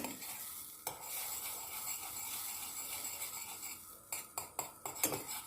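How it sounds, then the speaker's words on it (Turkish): Butter melting in a pan until lightly browned for a béchamel sauce, heard as a steady close sizzle with stirring scrapes and a few sharp utensil clinks near the end. "İyice eritiyorum biraz yanana kadar."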